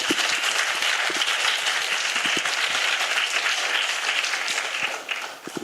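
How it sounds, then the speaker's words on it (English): A full audience applauds the speakers after their presentations at a Daegu English talk concert, a dense, steady wash of many hands clapping that holds for several seconds before thinning slightly at the end. "Let's give a big round of applause once again to the speakers who delivered"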